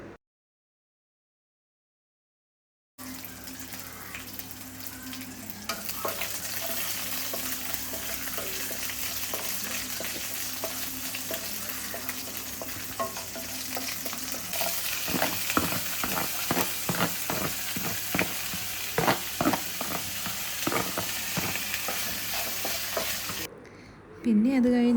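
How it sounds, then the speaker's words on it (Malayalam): Mustard seeds and spices sizzle and fry in hot oil in a pan, a steady loud hiss broken by many sharp crackles and pops that grow denser toward the end, with no talking. "പാനിൽ എണ്ണ ഒഴിച്ചു, പിന്നെ ബാക്കി ഈ സ്പൈസസ് ഒക്കെ ഇട്ടു"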